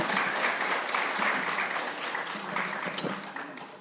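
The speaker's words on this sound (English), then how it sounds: "We're not supposed to applaud" Applause in an education policy committee hearing room, a steady, moderately distant patter of many hands clapping that carries on for several seconds without talk over it.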